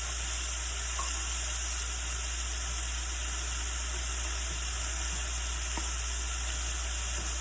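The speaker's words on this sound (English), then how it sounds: "I'm going to take our lentils. Get those mixed in." Lentils stirred into a hot pan, with a steady loud sizzle running throughout and a few faint clicks of utensils.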